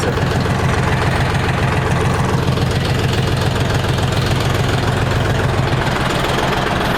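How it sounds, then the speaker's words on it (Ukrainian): A heavy diesel engine on a new, not yet broken-in DTZ 354U tractor idles steadily nearby with an even, rhythmic knocking chug that never changes speed. "Трактор рівненько робить, не обкатаний."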